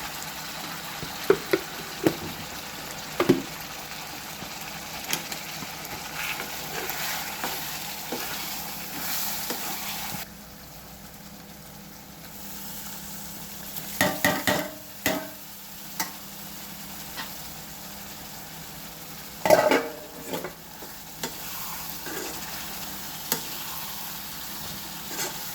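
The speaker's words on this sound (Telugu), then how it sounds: "చికెన్ ఫ్రై అయింది" Chicken with tomato, salt, chilli and ginger-garlic frying in a pan, a steady close sizzle broken by sharp scraping stirs at irregular moments, with a brief quieter lull midway.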